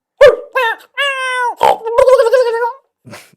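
A person mimics a dog with a short series of voiced, yelping barks and grunts, close and loud, with brief gaps between them.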